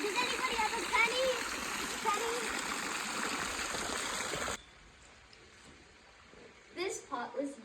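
Water splashes and trickles steadily in a fountain at a California mission, a broad constant wash that cuts off abruptly midway, leaving a quiet courtyard with faint voices and a few brief bright sounds near the end.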